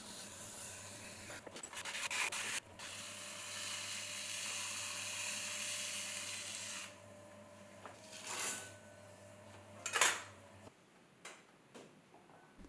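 A tungsten carbide trimming blade shaves the outside of a clay stem on a spinning pottery wheel, a steady close scraping hiss over a low motor hum, then a few louder scrapes and taps as the wheel slows.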